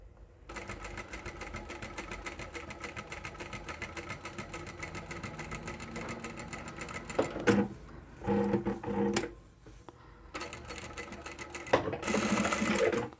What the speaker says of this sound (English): all I need to do is finish sewing all the way to the very end